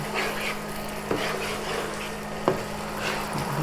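Thickened sauce for pork-stuffed peppers simmers and bubbles steadily in a pan, with a soft continuous sizzle and a couple of faint utensil taps against the cookware.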